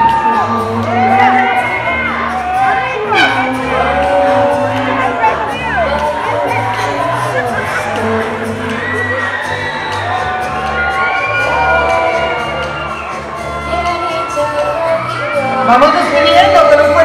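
A crowd at a Latina beauty pageant cheers, whoops and shouts loudly as a contestant is sent off the runway, with an announcer's voice carrying over the steady roar.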